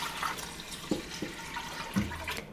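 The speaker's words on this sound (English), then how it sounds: "In the bottom, I'm adding 2 quarts of water." Water poured into the bottom of a canner holding a canning rack, with two quarts added while preparing to can chickpeas; a steady, fairly faint splashing runs throughout, with a few brief, lower gurgles near the middle and end.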